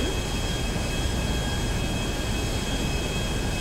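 Airplane approaching a runway in the FiveM game, a constant roaring jet engine drone with a thin steady whine on top, unchanging and fairly loud, no talk.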